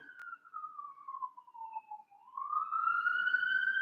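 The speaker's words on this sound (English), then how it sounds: "I got a siren going by here." A passing emergency vehicle siren wails steadily, its tone sliding slowly downward and then rising again as it goes by, moderately loud and alone with no talk.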